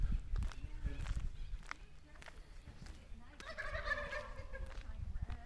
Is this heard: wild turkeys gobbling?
yes